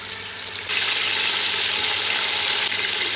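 Second batch of kebab meat for a stovetop pot kebab dropped into a pot, a steady close sizzle and frying hiss that swells loudly after the first moment and holds with no talking.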